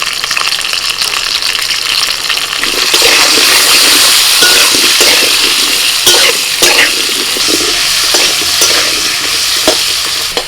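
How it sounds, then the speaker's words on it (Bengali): Potatoes fry loudly in oil with salt and turmeric, a dense close sizzle with spatula scrapes and stirring clatter, growing busier partway through. "প্রথমে আলুটা ভেজে নিচ্ছি একটু লবণ আর হলুদ দিয়ে দিচ্ছি"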